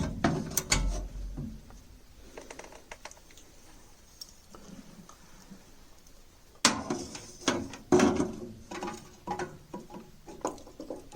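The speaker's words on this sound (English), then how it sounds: "Just loosening all the screws." Screws being loosened on an American Standard Ameristar furnace burner: scattered small metallic ticks, scrapes and clicks, close and fairly faint, with a louder cluster of taps and knocks toward the end, no talking.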